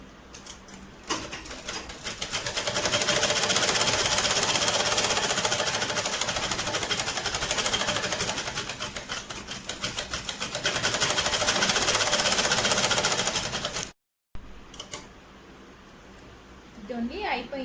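A home sewing machine runs in long continuous bursts, stitching the back panel of a girl's boutique-style birthday frock, a steady close mechanical whir that rises and falls in speed, with a brief stop near the end and someone speaking softly between runs.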